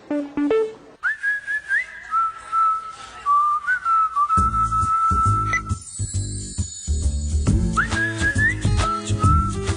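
Relaxed, cheerful whistling of a melody in an accounting software advert, carried alone at first, then over a jingly, tinkling backing tune.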